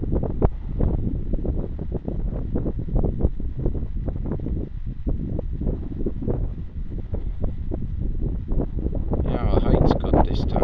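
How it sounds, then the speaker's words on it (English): Wind buffeting an aircraft in flight, a loud continuous rumbling roar with gusty fluctuations, and a voice speaking over it near the end. "the wind is now kicking it a bit"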